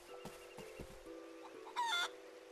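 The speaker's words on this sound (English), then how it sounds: "We got some chickens." Quiet clucking from chickens in the PS3 game Eternal Sonata over a steady electronic hum, with one brief, louder squawk near the end.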